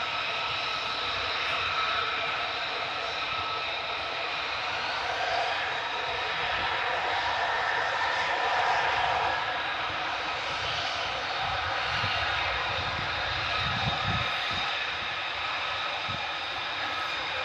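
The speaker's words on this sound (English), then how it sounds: "F-15's coming down again." F-15 jets come down at RAF Lakenheath, their engines a loud, continuous roar that holds steady and swells slightly over the length of the clip.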